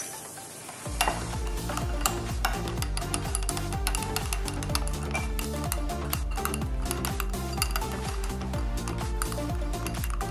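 A spoon stirs milk with milk powder, falooda powder and custard powder into a paste for an Indian strawberry dessert, the rapid, steady scraping and clinking continuous and close throughout.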